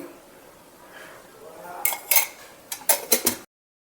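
A spoon clinking against a metal pressure cooker while cooking oil is added, quiet at first, then a cluster of bright, sharp metallic knocks near the end.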